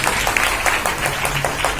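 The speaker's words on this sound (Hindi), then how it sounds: "एक बार जोर से हमारे इन बाल गोपालों के लिए तालियां हो जाए" A short burst of audience applause at a felicitation ceremony in Maya Puri, cheering children who have just performed an antakshari song game. The clapping is dense and steady throughout, with no talk over it.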